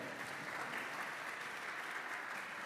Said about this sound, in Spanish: Así que un aplauso fuerte al pastor también.